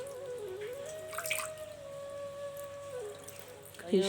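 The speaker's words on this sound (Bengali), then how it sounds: "জলটাও রেডি করা হয়ে গেছে তো জল দিয়ে অভিষেক করাবো" Water poured over a deity's idol in a Hindu abhishek ritual bath at a home shrine on Utpanna Ekadashi, a soft steady trickle and splash running under a voice.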